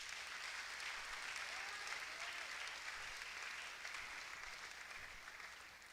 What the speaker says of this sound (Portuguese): Ah, merece uma salva de palmas, não merece não?